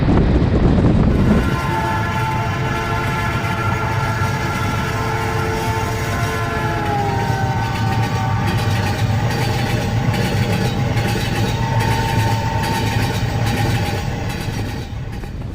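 A train rolls steadily along the rails, a loud continuous rumble with rhythmic clatter of carriage wheels and sustained tonal hums that shift in pitch as it travels, heard alone without voices.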